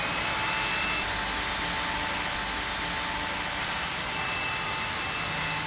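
Cordless vacuum cleaner running over a hard floor while picking up fine dust, giving a steady, fairly quiet whooshing hum of motor and suction that stays even from start to finish, with no talking.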